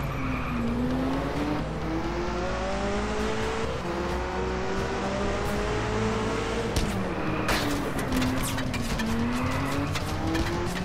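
Car driving hard with a loud, steady engine whine that rises and falls, then tires squealing and skidding toward the end, in the Just Cause video game; no talking.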